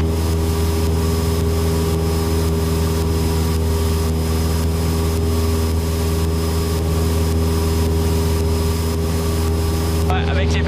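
A small plane's engine drones loud and steady while climbing out after takeoff from Québec airport, a constant close cabin roar throughout.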